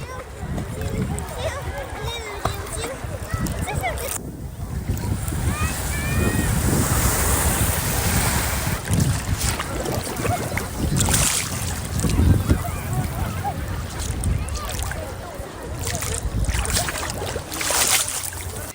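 Sea waves wash steadily onto a beach while strong wind buffets the microphone, giving a loud, continuous roar of surf and gusts close by, and someone talks over it at times.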